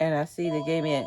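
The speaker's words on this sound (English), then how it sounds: "Sorry about that. That's my phone." A mobile phone ringtone plays loud and close, a bright two-part electronic melody with a brief gap between notes, while someone speaks over it.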